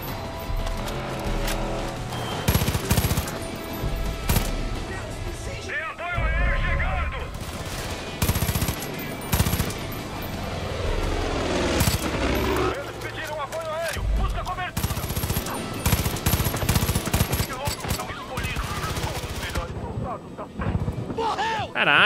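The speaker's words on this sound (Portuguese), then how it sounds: "Mano, eu tô dando um tiro, vocês estão vendo isso?" Repeated gunfire cracks and rapid bursts in the Far Cry 5 video game, loud and close, mixed with vehicle rumble and whooshing game effects while someone talks over much of the action.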